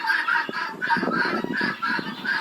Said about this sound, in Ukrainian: Оце у нас півничок такий гарненький, молоденький.